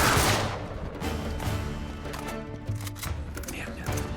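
Gunfire aimed at the player in Uncharted 3 Remastered on PS4, scattered cracks and short bursts over steady game noise and a low rumble, with several louder shots near the start and end.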